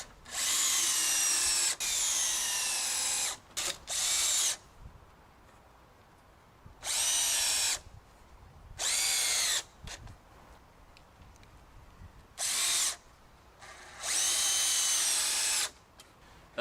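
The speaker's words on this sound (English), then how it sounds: "I'm going to fasten a piece of 2x2 to the top." A power drill runs in repeated bursts while driving fasteners through a length of 2x2 timber into the top of a wildlife pond frame: seven or so loud whirring runs of one to two seconds each, separated by quiet pauses.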